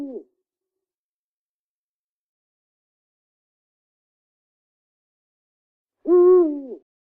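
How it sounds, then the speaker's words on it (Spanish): A soft owl hoots in a jungle setting as an audiobook sound effect: a short clipped hoot at the start, then a single clear, fuller hoot after long silence. "Volvió a oír el suave ululato"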